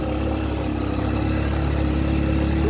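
Motorbike riding along a mountain cliff road, its engine droning steadily and loudly throughout with a constant mid-pitched hum and no pauses or speech.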